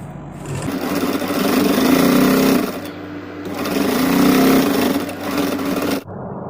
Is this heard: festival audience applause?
no